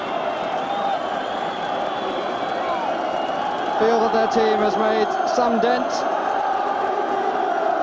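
Football crowd at a 1984-85 First Division match between Spurs and Liverpool, a steady dense roar filling the stadium with swelling noise and some whistles near the end, heard beneath continuous commentary.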